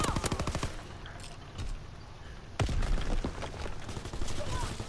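Rapid automatic gunfire in Call of Duty multiplayer, with dense bursts at the start and again after a short lull, loud and close, with game voices underneath.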